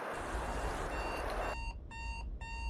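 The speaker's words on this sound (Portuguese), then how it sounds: "desliga o despertador" Alarm clock ringing, a rapid electronic beeping in bursts that cuts through a steady loud rumble, repeating in short pulsed groups toward the end.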